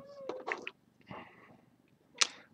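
A cat whines and meows in the background, a few drawn-out plaintive cries followed after a pause by one sharper, louder yowl, with no talking.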